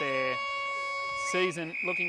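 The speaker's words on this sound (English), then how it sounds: "the siren sounds for halftime here at the St Francis Xavier College Oval in Officer" Halftime siren at a women's Australian rules football match at St Francis Xavier College Oval in Officer, a steady tonal blare sounding throughout while a commentator talks over it.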